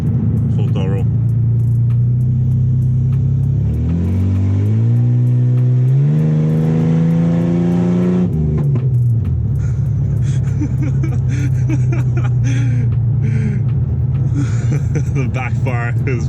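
Ford AU Falcon engine fitted with new extractors and a high-flow cat, revved at full throttle, its tone climbing steadily then dropping back to a loud idle rumble, with voices talking over it.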